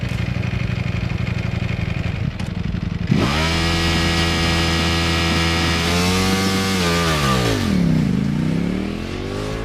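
A Ducati V4 motorcycle, the standard model rather than the V4S, revs hard on launch control, its engine held at a loud, steady high-rpm buzz that rises, dips and climbs again, close and alone without talk.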